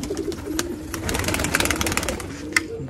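Pigeons cooing in a loft at close range, soft repeated low coos layered with sharp flutters and clicks, with an engine hum faintly underneath.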